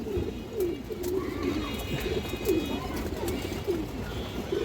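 A pigeon coos repeatedly in soft, low, rolling phrases, fairly faint against a steady background hiss, with occasional clicks and no voice over it.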